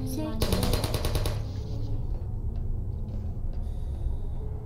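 A burst of rapid gunfire from droids in the video game Portal rattles at the start, followed by rumbling background game sounds with no one speaking.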